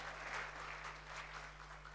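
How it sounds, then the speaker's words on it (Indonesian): A church congregation claps during a sermon, a continuous faint wash of hand clapping over a steady electrical hum, distant and low in level. "Yang percaya sungguh-sungguh tepuk tangan bagi Allah kita."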